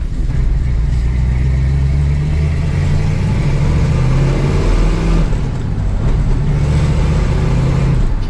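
A 1971 Dodge Challenger R/T runs with a steady, loud, throaty exhaust rumble close by, its engine holding a continuous deep drone for several seconds with slight swells, and no voices over it.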